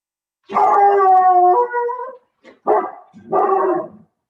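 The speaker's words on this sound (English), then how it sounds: "There's my dog again." A pet dog howls in a long wavering tone, then gives a couple of shorter whimpering yelps, close and loud in a quiet room.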